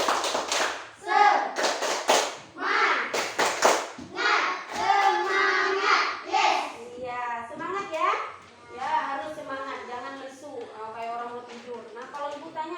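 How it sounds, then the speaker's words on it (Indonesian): A third-grade class of children doing the rhythmic 'tepuk semangat' clap, sharp bursts of clapping in a patterned beat mixed with children's voices chanting along, followed by sung or spoken lines from the group. "Ayo kita tepuk semangat dulu."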